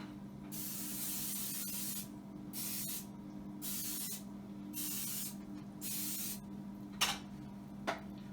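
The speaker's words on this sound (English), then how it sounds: "So now she's going to take the pan, and we're going to spray it." Long hissing bursts of an aerosol cooking spray onto a baking pan, about five in a row with brief gaps, close and steady, followed by a couple of light knocks.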